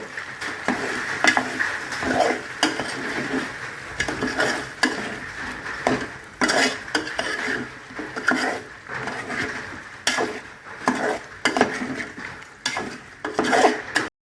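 A spoon scrapes and knocks rhythmically around a pan as a thick chicken masala is stirred, with faint sizzling underneath and no voices.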